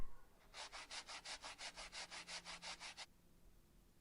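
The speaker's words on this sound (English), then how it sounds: "And then used a sanding block to finish up." A sanding block rubbed over scrap wood, close and alone: a quick run of about fourteen even, rhythmic strokes lasting roughly two and a half seconds, then quiet.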